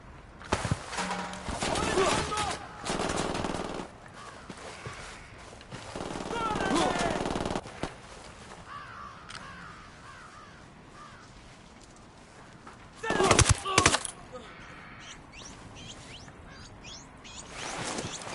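Machine-gun fire in a video game comes in scattered bursts, with one loud, dense volley near the end, set against ambient game sounds and occasional voices.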